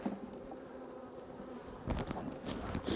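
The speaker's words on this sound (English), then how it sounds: "We've got a lot of bees here." Honeybees hum steadily around an open hive, with a few louder buzzing passes close by as insects fly past.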